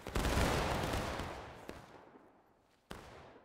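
Gunfire in the War of Rights video game on the Waterways map, a dense burst of musket volleys rolling loudly then fading over a few seconds, with a couple of sharp separate shots afterward.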